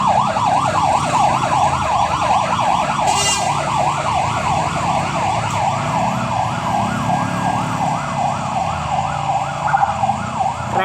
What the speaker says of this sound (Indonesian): Oh, ambulan dikawal.